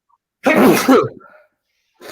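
A single loud, close sneeze bursts out and trails off, followed by a moment of silence.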